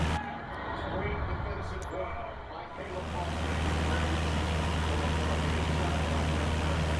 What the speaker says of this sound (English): Let's fire up the engines and get going here.